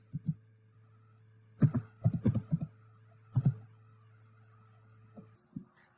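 Keys clicking on a computer keyboard as the words "bow tie" are entered into a search box, a few short bursts of close, crisp taps separated by pauses over a steady low hum.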